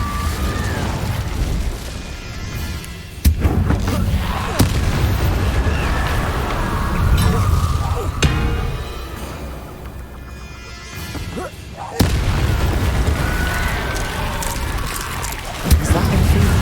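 Incendio fire spells cast in Hogwarts Legacy, a video game: sharp blasts burst out at intervals over a loud, rumbling game soundscape, with a player's voice talking at times.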